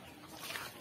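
Native chickens clucking softly in a brief, faint snippet of farmyard sound, with a thin, noisy background and no voices.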